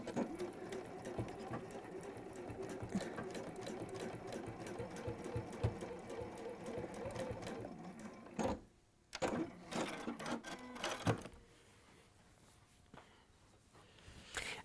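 Home sewing machine stitching fabric along a seam, a fast continuous mechanical whir and needle chatter for about eight seconds, then short stop-start bursts before the motor falls quiet, close up with no talking.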